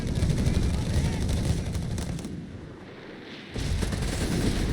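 Heavy artillery and gunfire rumble through a World War II battle in Company of Heroes 3, with a dense barrage that dips briefly and then resumes, and a voice talks over it.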